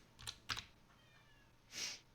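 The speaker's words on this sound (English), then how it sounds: "if you hear my cat in the background, he just likes to talk" A pet cat lets out two short meows in quick succession followed by a longer, higher call, faint against quiet room tone with light keyboard tapping.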